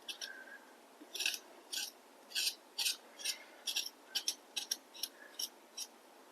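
A knife or spoon scrapes the skin off ginger in short, rhythmic rasping strokes, about a dozen quiet scrapes close by in an otherwise still kitchen.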